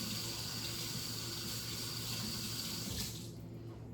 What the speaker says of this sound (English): Just wash my hands off